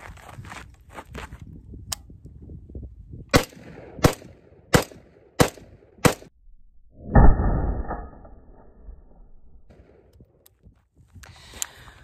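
Rifle shots from a 10.3-inch barrel fitted with a JMAC RRD-2C muzzle device ring out as five sharp, evenly spaced cracks at an outdoor range, followed by a heavier thud and quiet rustling.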